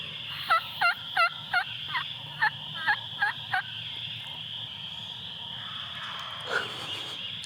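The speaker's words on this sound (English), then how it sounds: "we had a clear view as the gobblers pitched down from their roost and hit the ground, immediately breaking into full strut" Wild turkey gobblers near a Michigan field gobble in a rapid series of about eight short, rattling calls at moderate distance, followed by a quieter gobble later over a steady outdoor hiss.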